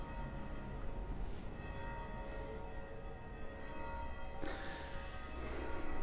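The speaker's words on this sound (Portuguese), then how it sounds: "E são doze badaladas." A church bell strikes twelve in the distance, its strikes ringing out with long, humming resonance that hangs between them.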